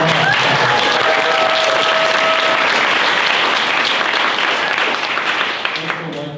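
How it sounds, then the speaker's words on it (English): A crowd at the 26th Annual ACE New Venture Competition finals at UH gives the four teams a loud, sustained round of applause, dense clapping with some cheering that tapers slightly toward the end. "So let's give the 4 teams a big round of applause."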